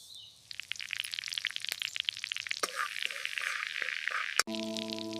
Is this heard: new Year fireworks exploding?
no